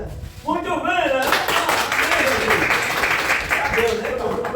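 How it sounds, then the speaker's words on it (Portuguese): A class audience in Luxemburgo, Girau do Ponciano, applauding after their first lesson, steady clapping that follows a short stretch of speech and continues beneath further talking. "uma salva de palmas para a nossa primeira aula"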